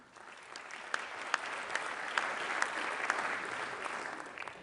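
Audience applause at the One Health Summit in Lyon, a steady wash of many hands clapping that swells slightly and holds for several seconds.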